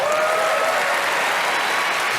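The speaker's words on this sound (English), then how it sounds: "Applause." A burst of studio-style applause, a sustained wash of many hands clapping that greets a biathlete guest arriving on a podcast, even and continuous for a couple of seconds with no talk over it.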